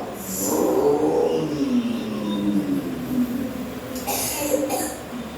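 A group of voices imitates a car driving during a training activity, a chorus of vocal vroom and engine noises rising and falling over a few seconds, with some background chatter.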